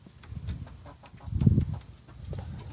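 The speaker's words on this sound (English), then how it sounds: "you can probably hear some kind of ruckus in the coop, and that's just them getting up on the roosting bars" Chickens clucking and shuffling in a backyard homemade coop as they climb onto the roosting bars, a few low, close bursts of clucks and fluttery rustling with a louder flurry in the middle.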